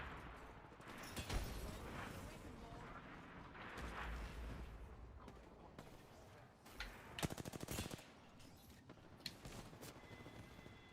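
Rapid bursts of gunfire from Apex Legends, firing with unlimited ammo at a target behind a rock, crackle in repeated volleys with sharp loud cracks near the middle, over a busy game backdrop.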